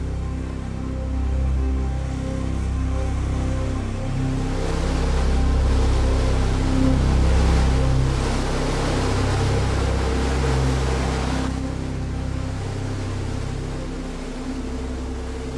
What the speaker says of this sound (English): a brief encounter with the open ocean with its dangerous reefs and ocean swells